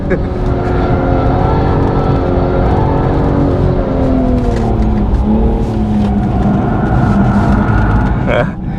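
A BMW M240i on a race track bouncing off its fuel cut, the engine holding a loud droning tone that stutters at the limiter, with a voice talking over it.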